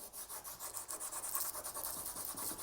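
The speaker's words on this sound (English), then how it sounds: "We use our 600 grit sanding stick here." Steady rhythmic rasping of a 600-grit sanding stick rubbed back and forth on a gold ring, close up, continuous strokes with no voices.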